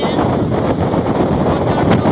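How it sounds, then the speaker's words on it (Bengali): Loud, constant wind on the Padma Bridge in Bangladesh buffets a phone microphone with a roaring rumble that drowns out everything else. "বাতাসে আমি ফোন ধরেই রাখতে পারতেছি না"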